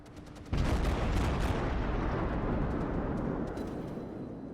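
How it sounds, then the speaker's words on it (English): The Cleveland cruiser's anti-aircraft battery in World of Warships fires as a sudden onset of dense, rapid rumbling gunfire that sustains and slowly fades, loud and continuous, with faint sharp pops above. "just watching the Cleveland's AA battery go at it."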